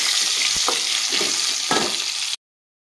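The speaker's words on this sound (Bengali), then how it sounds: "আলুটাকে একটু নিয়ে হালকা ভেজে নেব।" Potatoes fry lightly in hot oil for a Bengali fish curry, a steady broadband sizzle with a couple of soft spatula scrapes, close and alone before cutting off abruptly.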